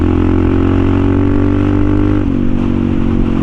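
A Suzuki DRZ400SM motorcycle fitted with a White Brothers E-Series exhaust revs loudly and close, a continuous raw engine roar that dips briefly partway through before picking back up.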